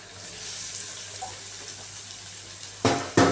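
Boiled vegetables for a street-style veg chop go into hot oil, a steady low sizzle of frying that jumps into two loud, hissing bursts near the end as pieces drop in.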